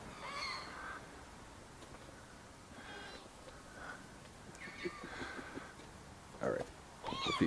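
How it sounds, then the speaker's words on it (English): Several gulls swarming over houses call in scattered squawks and cries at moderate distance over a soft background hiss. "The gulls are swarming."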